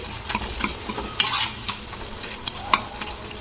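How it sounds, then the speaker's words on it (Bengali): Vegetables cooked without oil being stirred with a spatula in a pan: repeated scraping and tapping strokes over a soft sizzle, close and moderately loud, with no one talking. "এটাকে একটু খুঁতি দিয়ে একটু আমি এরকম ঘেঁটে দিচ্ছি"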